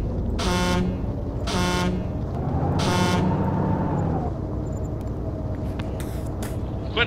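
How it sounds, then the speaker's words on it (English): Car horn honking in the video game Arma 2: three loud, separate honks in quick succession over steady engine rumble, then the engine continues alone with faint knocks. "Quit honking the fucking horn, dude."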